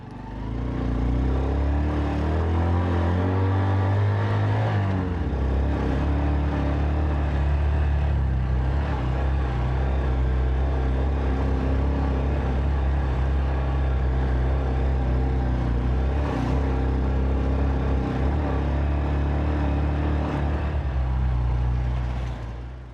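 A motorcycle climbs a murram dirt road past a swamp area in rural Uganda, its engine droning steadily and close throughout with shifting pitch as it labours uphill, no voices present.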